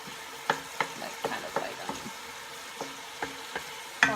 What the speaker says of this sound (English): I'm gonna let the onion fry a little bit first